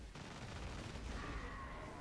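Heavy weapon fire in Warhammer 40k: Space Marine multiplayer, a plasma cannon: a dense, loud sustained blast with a rising energy whine near the end, continuous for two seconds.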